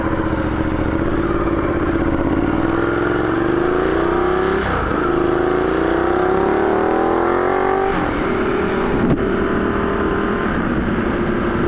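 Ducati Diavel motorcycle ridden in touring mode with a 14-tooth front sprocket, engine pulling loud and close through rising gear sweeps, with brief drops between shifts as it accelerates.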